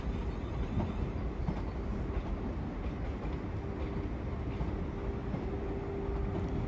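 A Class 450 electric train departs a London terminus, producing a steady rumbling roar with a faint continuous whine and occasional light clicks, moderately distant and unbroken.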